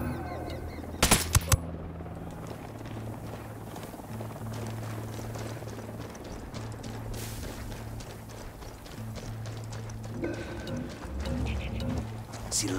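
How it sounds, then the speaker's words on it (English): Gunfire in the video game Ghost Recon Wildlands: a short burst of sharp, loud shots near the start, then steady background rumble and scattered faint noises, with no clear talk. "I'm shooting these fuckers."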